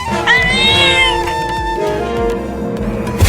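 A cartoon mother cat meows in a drawn-out, wavering cry near the start while climbing a tree to rescue her kitten from a monkey, then the call fades under busy music and sound effects.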